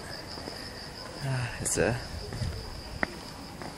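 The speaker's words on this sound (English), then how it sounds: "You can hear the chirping of the birds, the crickets and all that." Crickets chirp steadily beside a quiet university lake, a faint, thin continuous trill running throughout, with a brief spoken voice partway through and a small click near the end.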